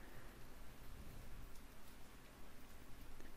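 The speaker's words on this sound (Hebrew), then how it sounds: "אני מקווה שאתם יכולים לשמוע את הגשם בחוץ" Rain falling outside, heard faintly from indoors as a soft, continuous hiss with scattered light ticks of drops and no voices.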